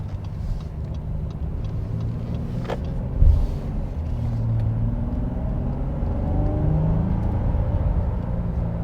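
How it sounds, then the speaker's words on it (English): A 2021 Honda Ridgeline Sport's V6 engine rumbles low and steady from inside the cabin, with a brief bump and then a gradually rising drone as it pulls away. "The V6 sounds really good."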